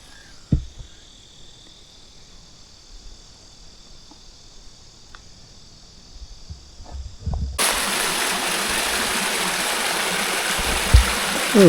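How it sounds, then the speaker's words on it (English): A small waterfall on a stream at a campsite. Quiet outdoor ambience and a few faint knocks give way to a steady, loud rush of falling water that holds for the last few seconds. "So right down there is our beautiful little waterfall."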